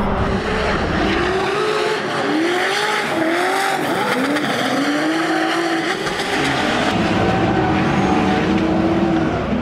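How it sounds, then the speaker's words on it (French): A BMW M3 race car screams at high revs during a circuit battle at Croix-en-Ternois, its engine note rising and falling in repeated bursts against the limiter, loud and steady throughout with no speech. "On entendait les rupteurs qui se multipliaient."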